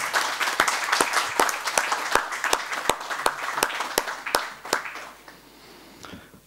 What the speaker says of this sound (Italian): vi invito ad accogliere con un calorosissimo applauso